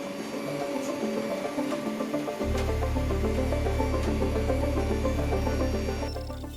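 Anycubic Kobra 4 3D printer running a noise tuning test: a steady motor whine with scattered ticks, then a loud low buzzing drone kicks in and holds close-up, with no talking.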